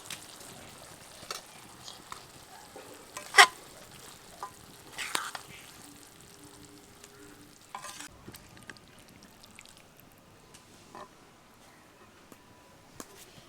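Chilli chicken with spring onion greens being stirred and fried in a pan, a soft sizzle with scattered scrapes and clinks of the spoon, quiet and close.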